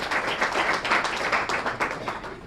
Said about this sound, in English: So let's please give them a welcome round of applause.